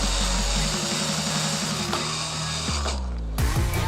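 A power drill whirs loudly up close, driving screws while assembling a 10x20-foot pergola, its motor pitch shifting as it stops and restarts in short bursts.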